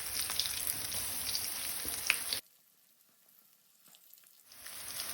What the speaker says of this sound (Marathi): फागलाच्या फोडींग असो दोन्ही वाटल्यान रवो लावन घेवपाक जाय आणि फोडी अशे तेलान हळू सोडपाक जाय।